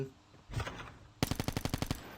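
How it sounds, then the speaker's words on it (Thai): Gunfire from the Call of Duty Mobile video game: a short burst, then a rapid automatic machine-gun volley of about nine sharp, evenly spaced shots, loud and close, with no talk. "เฮ้ยเฮ้ยเสียงปืนเสียงปืน"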